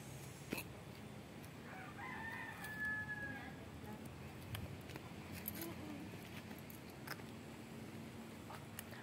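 A backyard rooster crows once, a short rising call carried at middle distance over steady outdoor hiss, with faint talk nearby.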